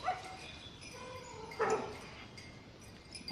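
Dogs in a park give faint, distant barks and yips, with one sharper bark standing out briefly amid open outdoor ambience.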